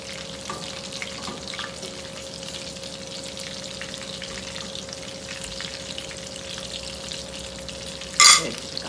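Prawns fry in hot oil in a pan, making a steady, close sizzle with a faint crackle throughout and a brief clatter just before the end, with no voices.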